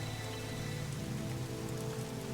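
Steady rain falls in a forest in the strategy game Strategic Mind: The Pacific, a continuous even hiss of drops with no pauses or talk.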